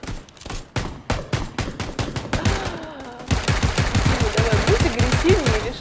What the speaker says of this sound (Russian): громкие выстрелы